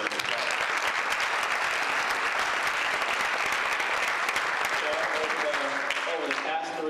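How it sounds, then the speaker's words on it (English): An audience at a school district State of Schools address breaks into steady, dense applause that fills the room for several seconds before easing slightly at the end. "we should give them a round of applause"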